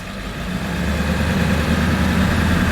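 A Ford E350 van with a 7.3L engine idles steadily, a loud continuous low rumble with a constant drone and no voices.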